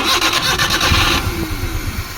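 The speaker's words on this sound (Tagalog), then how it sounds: "halatang halata na nagbuto-buto ang andar ng makina ngayon" A Suzuki DA52 with an F6A engine, badly misfiring and lacking power, cranks with rapid rhythmic chugging, then settles into an uneven, sputtering idle, close and loud.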